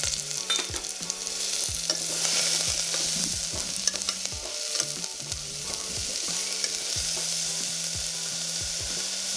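Curry leaves and three dried red chillies frying in oil for mutton kulambu, a steady crackling sizzle with repeated scraping stirs of a utensil against the pan, close and alone without talk.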